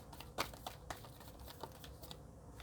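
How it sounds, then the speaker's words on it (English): Tarot cards are shuffled quietly at close range, with soft irregular riffling and several sharper card snaps over a faint background, no talking. "I will shuffle these 3 times and see."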